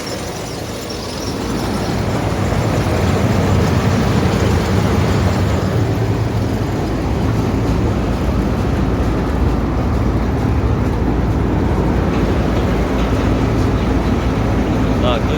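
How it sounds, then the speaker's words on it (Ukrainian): A Palesse 812CX combine harvester runs with its feeder house engaged, giving a loud, steady mechanical roar and rumble. The noise swells in the first seconds, then holds constant and close throughout. "Наклонка працює."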